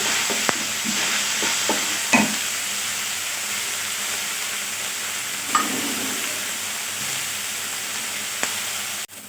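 Onions and green peas fry in a pan for aloo samosa filling, with a steady close sizzle and a few sharp taps of a spoon against the pan.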